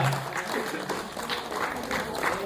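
Applause rises from a crowd at a Shiv Jayanti celebration and award ceremony, steady clapping honouring the women's wing that continues without a break.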